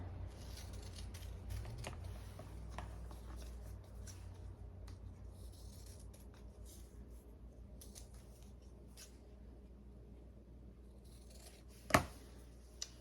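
Scissors snip steadily through paper, cutting out a letter shape traced on the paper side of fusible webbing for a craft project, close and continuous with a sharp click near the end and no talking.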